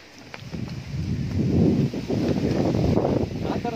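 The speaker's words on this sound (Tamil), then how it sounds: "ஸோ செம்மையாக காற்று அடிச்சிட்டு இருக்கு" Strong wind buffets the microphone on a hilltop trek, a loud rushing roar that surges and holds through the clip.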